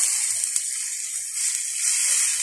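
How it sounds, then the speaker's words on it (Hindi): Water poured into a pan of macaroni frying for a simple home recipe, a continuous airy hiss and sizzle of moderate loudness with a faint clink near the start, no voices. "अब हम डालेंगे पानी।"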